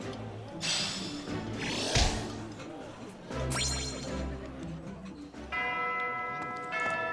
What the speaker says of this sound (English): Bell rings.